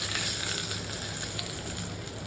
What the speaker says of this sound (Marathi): आता ही झकास जमून आलेली फोडणी कोशिंबिरीवर ओतूया.